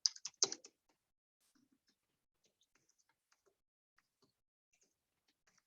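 A few quick keystrokes tap on a computer keyboard up close, followed by a long run of sparse, faint clicks as text is typed into a document editor.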